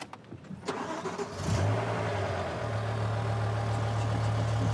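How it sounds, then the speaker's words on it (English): A super saloon car engine cranks and fires up, then settles into a steady, slightly rough idle with a deep, constant drone, close and alone. "I want you to listen to the engine start up."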